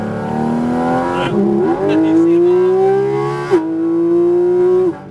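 A Porsche Cayman GT4 RS flat-six screams at high revs on the Superspeed Orlando track, loud and close, with quick gear-change dips and a steady climbing engine note between shifts.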